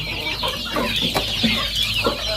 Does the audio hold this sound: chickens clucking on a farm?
yes